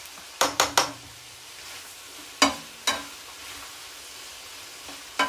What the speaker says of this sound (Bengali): তো চিংড়ি মাছগুলো আমি তেলের উপর ভাজে নিচ্ছি, হয়েও গেছে ভাজা অলমোস্ট।